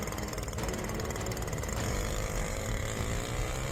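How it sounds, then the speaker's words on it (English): A steady, droning two-stroke chainsaw engine runs continuously at high revs in a forest, loud and close, with a buzzy rattling tone throughout. "The sound of the two-stroke engine echoes throughout the forest."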